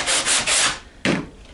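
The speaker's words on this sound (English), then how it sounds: "It's obviously easy sanding." Roberlo body filler is sanded by hand in close, loud rasping strokes, two long rubs followed by a short pause and a third sharp stroke.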